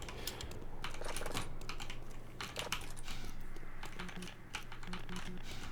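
Rapid clattering of computer keyboard keys during play of the shooter Black Mesa, dense irregular bursts of close clicks continuing throughout over faint game sounds.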